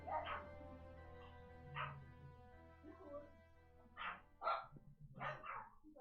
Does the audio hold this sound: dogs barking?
yes